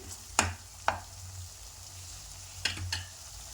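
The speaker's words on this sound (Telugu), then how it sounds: "చూడండి, మసాలా అంతా ఎలా ఫ్రై అవుతుందో." Masala for a lotus seed (phool makhana) curry frying in oil, with a soft steady sizzle broken by a few sharp scrapes and clinks of stirring, close up and with no talking.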